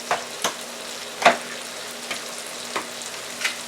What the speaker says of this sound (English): Now I'm going to add my rice. This is my rice that I already had cooked.